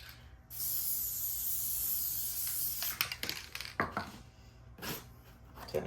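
A spray can lays coating onto a wooden fishing rod holder in one long hissing burst of about two and a half seconds, followed by several shorter spray bursts with quiet handling between them.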